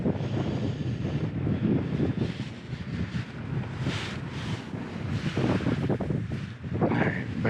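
Gusty wind buffets the microphone while kayaking on open water, a constant low roar swelling and easing in waves over the whole stretch, with faint water noise underneath.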